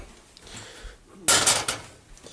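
A hot homemade mixture being stirred in a container: soft scraping at first, then a burst of clattering, clinking knocks of a utensil against the container's side, close up with no talking.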